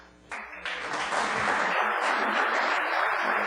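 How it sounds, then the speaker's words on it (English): An audience at a board meeting breaks into applause, a dense wash of clapping that swells quickly after a brief quiet start and holds steady and loud to the end. "please hold the applause"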